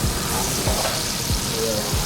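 Meat sears in a hot pan during a wild game cook-off, giving a loud, steady sizzle with a constant crackling hiss and a few faint scraping stirs close by.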